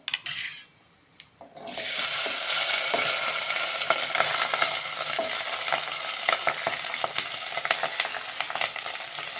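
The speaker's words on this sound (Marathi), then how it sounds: "आपल्या लवंगा झालेल्या आहेत आता आपण हा भात टाकून घेऊ" Rice tipped into a pan of fried cloves for sweet coconut rice: a brief quiet clatter, then a loud sudden sizzle that holds steady, with spoon stirring and scraping against the pan.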